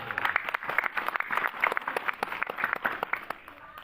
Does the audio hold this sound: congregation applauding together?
yes